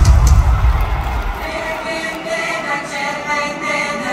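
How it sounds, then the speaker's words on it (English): Large concert arena crowd at a show in Newcastle, roaring and applauding loudly in a dense, sustained wash of cheers and claps that starts strongest and settles into a steady din. "Give yourself a round of applause."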